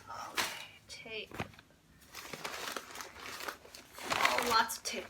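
Crinkling plastic and paper rustle up close as scissors cut and pull tape off individually wrapped nursery orchids, with quiet talking in between.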